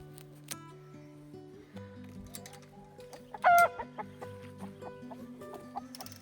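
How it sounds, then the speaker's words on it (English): Roosters on a small farm cluck in soft, scattered calls close by, with one sharper, louder squawk midway through and quieter clucking around it. "This one is one of the big roosters that's been fighting with one of the other roosters"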